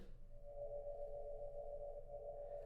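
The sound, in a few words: sonified light spectrum of copper in one octave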